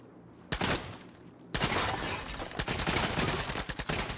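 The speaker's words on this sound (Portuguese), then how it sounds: "é munição explosiva, ela estoura a parede" Explosive-ammunition gunfire blasting a wall in the video game Far Cry 6: a loud blast, then a sustained roar of booming shots that turns into a rapid, pulsing volley of loud reports.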